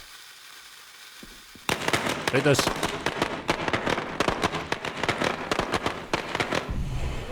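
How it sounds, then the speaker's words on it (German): Firecrackers going off in the zombie survival video game State of Decay, a dense, rapid string of sharp crackling pops starting abruptly after a quiet opening and continuing loudly to the end, with someone talking over it. "Da haben wir doch die Böller"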